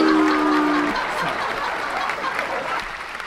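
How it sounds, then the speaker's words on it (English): Applause sound effect played at the end of a game livestream, a steady wash of clapping with a brief tonal cue at the start, fairly loud and holding level through the whole stretch. "Not boo, just applause."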